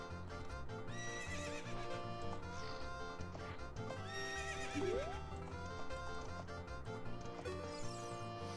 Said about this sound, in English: Here's the horse you're supposed to ride.